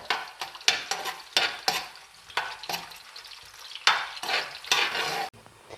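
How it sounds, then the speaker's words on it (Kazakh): Oil sizzles steadily as onions fry before mutton is added, broken by repeated scraping stirs from a utensil against the pan, close and fairly loud. "Бірінші пиязымызды қуырып аламыз, кішкене қызартып, қырап."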